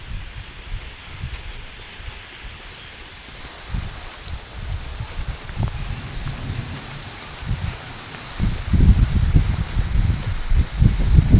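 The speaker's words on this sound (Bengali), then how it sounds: "বৃষ্টিও নামছে" Rain falls steadily on a ripening rice paddy in Bangladesh after a night storm, a broad outdoor hiss with gusts of wind and rustling plants that grows heavier toward the end.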